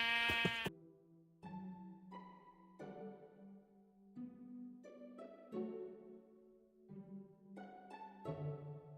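A series of short Minecraft sheep bleats in uneven bursts, fairly quiet and clean, with a buzzy synthetic tone over a low steady drone.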